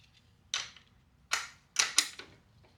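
A ratchet on an extension, turning to loosen a bolt on the titanium Akrapovic slip-on exhaust of a 2023 Kawasaki ZX10R, gives four short, crisp bursts of clicking spaced irregularly over a quiet background.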